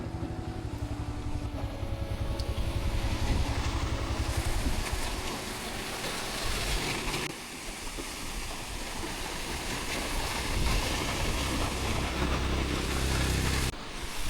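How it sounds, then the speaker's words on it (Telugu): Chinnakanal waterfall near Munnar, a continuous broadband rush of falling water mixed with passing road traffic, steady and fairly loud, with a brief quieter dip midway before the roar resumes. "ఇదే చిన్న కన్నా వాటర్ ఫాల్స్ అనమాట"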